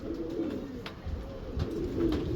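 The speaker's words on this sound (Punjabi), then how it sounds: "ਇਹ ਸ਼ਾਹ ਪ੍ਰਵਾਜ਼ ਕਬੂਤਰ ਆ ਮੇਰਾ" A Shah Parwaz pigeon coos nearby in low, rolling, repeated murmurs, moderately soft, with a few faint higher bird chirps in the background.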